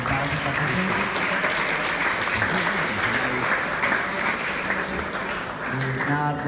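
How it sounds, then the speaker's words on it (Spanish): Sustained applause from an audience at a philosophy and post-conflict forum in Acacías, Meta, fills the room evenly for several seconds, with dense steady clapping and a few voices underneath. "un gran aplauso para todos los invitados acá presentes"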